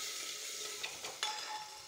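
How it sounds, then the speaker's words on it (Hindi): Chopped ginger and green chillies drop into spices frying with turmeric for a green chickpea dish, a soft, even sizzle with a couple of faint spoon clicks. "अब यहाँ पर जो हमने अदरक और हरी मिर्च काटा था वो इसमें डाल देंगे"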